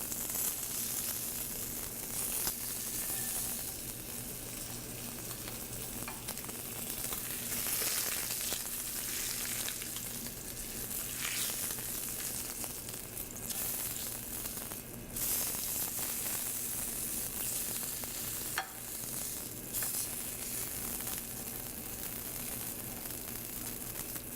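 Steady, dense sizzling of meat searing in a hot grill pan, continuous and close, with occasional louder crackles and no talking.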